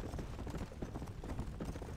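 Horse hooves clip-clop in steady, quick beats in Red Dead Redemption's zombie-themed Undead Nightmare, a dense, continuous patter with no voices over it.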